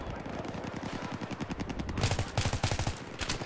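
M16A3 rifle fire in the video game Battlefield 3: rapid automatic bursts of sharp, evenly spaced shots, growing louder and heavier partway through, with no talking.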